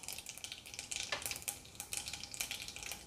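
Mustard seeds and cumin crackling in hot oil in a kadhai, a close, busy sizzle with quick popping bursts and no talk.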